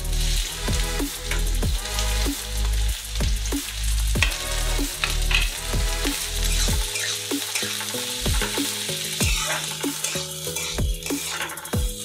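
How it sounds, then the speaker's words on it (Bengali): Chopped onions fry in hot mustard oil in a wok, a loud, steady sizzle broken by rhythmic scraping and tapping as they are stirred, with no voices. "কড়াটা গরম হয়ে গেছে সর্ষের তেল দিয়ে দিচ্ছি কোচানো পেঁয়াজ দিয়ে দিচ্ছি"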